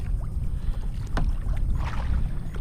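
A small boat paddled on Bitter Lake in South Dakota, with steady low wind rumble against the microphone and soft water swishes and drips as the paddle strokes, close, with no voices.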